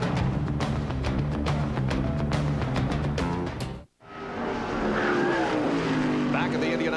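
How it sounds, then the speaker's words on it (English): NASCAR Winston Cup race cars practice at Indianapolis Motor Speedway in 1996, a loud continuous engine roar as a car passes, dipping briefly before another howls by, with a commentator's voice underneath. "Indianapolis Motor Speedway, and we're watching Ernie Irvan on the racetrack."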